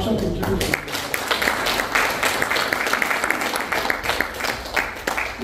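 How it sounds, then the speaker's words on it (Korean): A Korean church congregation in Los Angeles applauds during a church founding thanksgiving service, with a burst of clapping from the room. People talk over the clapping. "박수 한번 주세요."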